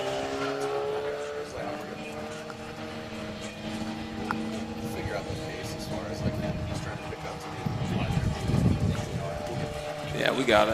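A Mazda Miata and a Crown Vic launch in a spectator drag race at the Freedom Factory, their engines droning and rising with a tire rush, under excited nearby commentary and crowd voices.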